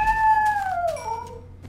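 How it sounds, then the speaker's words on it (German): A Minecraft cat gives one drawn-out, falling meow-like yowl, close and clear over a quiet background. "Die Katzen greifen uns hier an."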